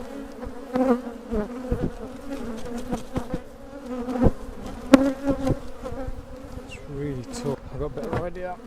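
A honey bee colony of over ten years, being removed from a solid chimney, buzzes loudly and steadily close by, with thuds and knocks from the work breaking in.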